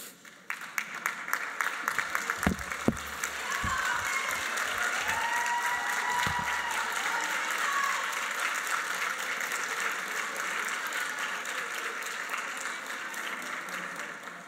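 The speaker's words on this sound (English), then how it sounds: "I would like you all to stand, graduates, turn around and applaud your families" Standing nursing graduates at a May 2023 graduation ceremony clap for their families in a long, dense, crowd-wide ovation, with a few sharp louder claps early and voices murmuring underneath.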